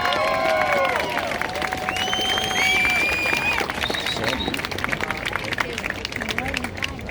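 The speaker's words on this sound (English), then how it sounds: "Please give him a round of applause." Crowd at an outdoor Freedom Over Fear protest in Nathan Phillips Square, Toronto, applauding a speaker with steady, dense clapping and cheering over a babble of voices, loud throughout and under scattered shouts.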